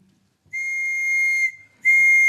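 Two sharp, loud blasts of a police whistle in a radio drama: a sustained shrill tone for about a second, a short pause, then a second blast.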